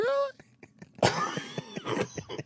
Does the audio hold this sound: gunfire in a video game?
no